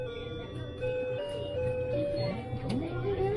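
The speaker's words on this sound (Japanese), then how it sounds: "ファミリーマートの音楽は日本と一緒です。" At a FamilyMart convenience store entrance in Taiwan, the door chime plays a short, clear stepped electronic melody over a busy background hum, with faint murmuring nearby.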